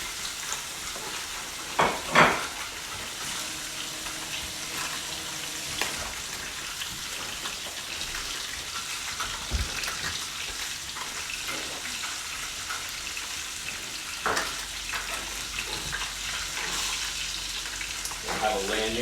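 Miso trout frying in a pan on medium-low heat: a steady, crackling sizzle throughout, with occasional louder pops and utensil taps, close up.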